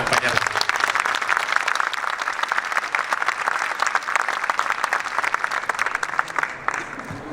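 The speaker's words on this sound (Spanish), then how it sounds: "Los invito a darles un fuerte aplauso." Audience applause fills a book fair panel on drug trafficking in Los Angeles, steady dense clapping from a large crowd that continues throughout and fades slightly at the end.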